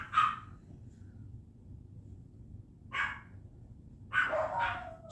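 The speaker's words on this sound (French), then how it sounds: "Je pense que mes chiens aiment vraiment japper." Several dogs barking in short separate bursts, moderately near, over a low steady background hum with no talking.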